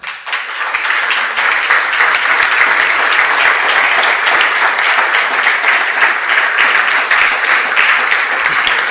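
A church congregation applauds during a sermon, with dense, sustained clapping that starts abruptly and holds steady, loud and close, all the way to the end.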